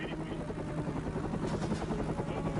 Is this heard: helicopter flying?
yes